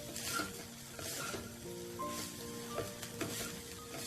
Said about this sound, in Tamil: இப்போ அந்த சாஸ் இதெல்லாம் நல்லா மிக்ஸ் பண்ணி விட்டுக்கோங்க